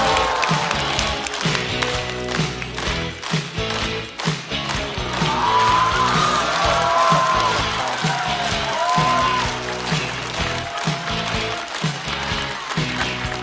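A studio audience applauds and claps as a stand-up comedian is welcomed onto the stage at a comedy show, a loud, dense, sustained burst of clapping with some cheering mixed in.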